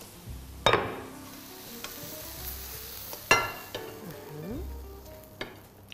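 Kyufta meatballs are lifted out of a frying pan with a few sharp metallic knocks and scrapes over a soft, ongoing sizzle of hot oil, with no one speaking.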